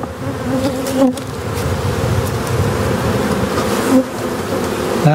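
Dense, steady buzzing of many honey bees on a hive frame of brood where young bees are hatching, loud and close, with occasional louder passes of single bees.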